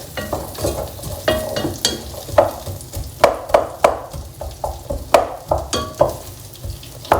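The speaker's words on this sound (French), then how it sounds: "En attendant que les oignons soient en train de revenir" Onions frying in neutral oil in a pan for a leftover-ingredient soup, a close sizzle broken by regular scraping stirs every half second or so, each stroke a sharp rasp, with no voices.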